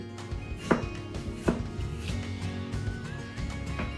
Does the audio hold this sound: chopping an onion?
yes